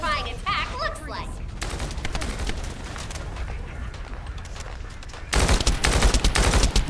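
Missiles launch in The First Descendant as a loud, dense barrage that bursts in suddenly near the end, following a stretch of steady gunfire-like crackle with game voices heard earlier.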